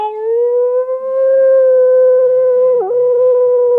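A person imitates a sled dog's howl, holding a loud, steady sustained tone with a single brief wobble near the end and no other sound.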